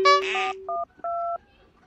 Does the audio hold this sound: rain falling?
no